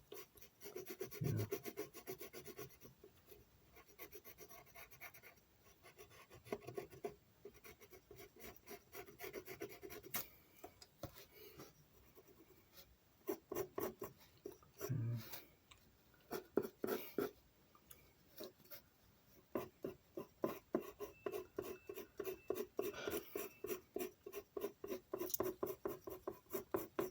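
Pencil sketching an angel silhouette on paper, close and quiet, with uneven rubbing strokes that turn into quick, rhythmic back-and-forth scratches as shading begins.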